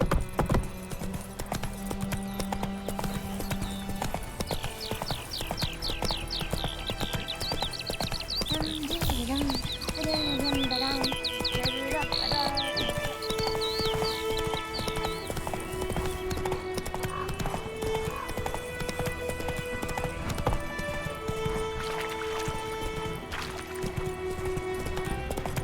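Horse hooves clip-clop steadily while riding in the video game The Witcher 3, a continuous rhythmic gait under game music and ambient effects, with brief snorts or whinnies.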